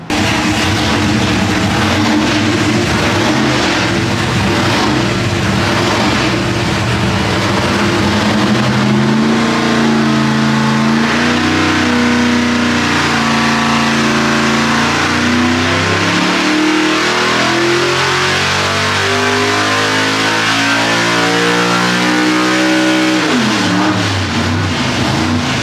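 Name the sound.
methanol big block Chevy engine revving on a dyno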